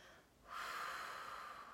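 A slow, steady exhale during a paced breathing exercise, a soft airy breath that swells after a brief quiet pause and then holds level and close for more than a second.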